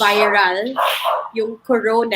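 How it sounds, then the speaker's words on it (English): Dogs bark and yip indoors in short bursts, mixed in with a person talking close by. "Sorry about the dogs."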